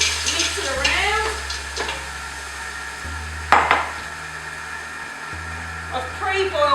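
Frozen peas stirred in a pot for a green soup, with scraping and rattling spoon strokes against the pot over a low steady hum, plus a sharper knock partway through.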